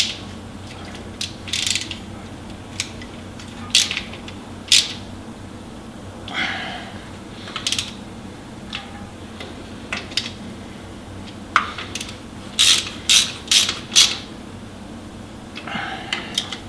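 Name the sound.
ratchet wrench tightening bolts on a Dana 44 axle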